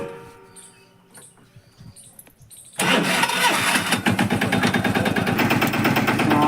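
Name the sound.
tractor engine starting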